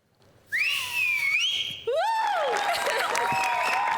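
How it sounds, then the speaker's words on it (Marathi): A person whistles on a comedy show stage, two sliding melodic phrases, the second beginning after a brief break, close and clear, with scattered applause faintly underneath. "पहिली शिट्टी तुमच्यासाठी."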